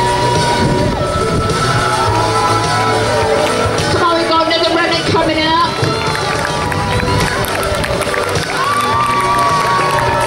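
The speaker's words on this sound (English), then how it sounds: "we know our last runner's coming in, and I really want a big cheer out of you" Large outdoor crowd cheering and shouting for the last runner coming in at a community run event, a dense continuous roar with children's voices and whoops, loud and close throughout.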